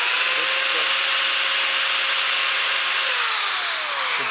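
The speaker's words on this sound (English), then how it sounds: "the drill wanders across" A power drill running steadily as its bit wanders across a metal surface before a hole is center punched, a continuous loud whirring grind with a shift near the end.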